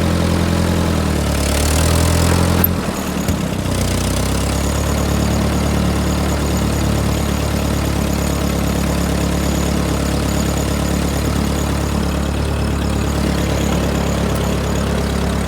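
A Ford 8N tractor engine runs loud and steady near a barn, a low, even chugging idle, with a short rise in revs followed by a gear change early on.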